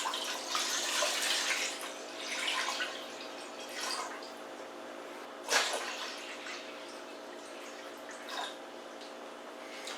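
A pot filling with about three liters of tap water: a steady, close splashing stream with droplet spatter and a few louder splashes, alone without talk.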